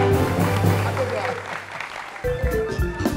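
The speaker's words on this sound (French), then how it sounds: "Applaudissez pour Josca," Studio audience clapping briefly on a live French-language talk show, a short burst of applause mixed with low hum and a voice speaking over it.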